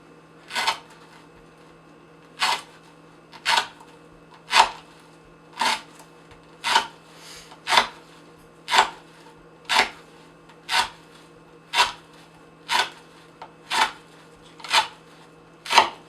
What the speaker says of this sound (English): So we'll see if that comes out with honing on the strop.